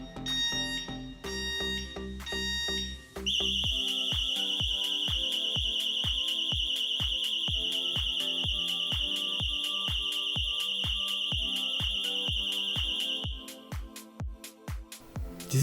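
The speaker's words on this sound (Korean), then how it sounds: "이 상태에서 디스크락을 건드리게 되면 5번의 삐 소리가 난 후 120dB의 경고음이 10초 동안 울리게 됩니다." A Xena XZZ6L alarm disc lock on a motorcycle brake disc sounds a few quick warning beeps, then a loud, piercing continuous electronic siren holds for about ten seconds before cutting out into a few final chirps.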